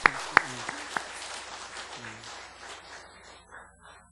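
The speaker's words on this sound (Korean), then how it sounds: "박수 한번 쳐주세요." A church congregation at a Sunday service starts clapping, with a few sharp single claps at first, then a looser, softer patter that fades out.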